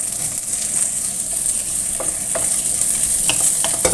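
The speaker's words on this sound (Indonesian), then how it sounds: "goreng bawang merah, bawang putihnya sampai benar-benar harum ya." Shallots, garlic and spice paste fry in hot oil for yellow-spiced chicken feet, sizzling steadily while a utensil stirs and scrapes the pan now and then.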